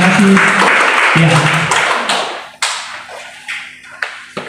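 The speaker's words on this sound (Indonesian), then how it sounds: "berikan tepuk tangan buat mereka" A congregation at a worship service held in an apartment claps for a group, a burst of applause that quickly thins into scattered claps and taps, with some voices audible underneath.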